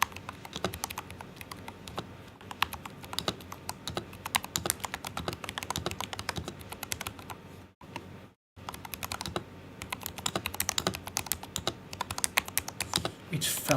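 Rapid, uneven clacking of keys on a newly modded computer keyboard, close and crisp, typed at a moderate pace with one brief pause partway through and no talking.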